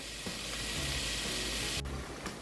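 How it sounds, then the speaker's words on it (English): Bacon fries in a soup pot, giving off a steady, close hiss of sizzling fat with a few soft knocks and scrapes mixed in. "You just got to get that bacon cooking a little bit"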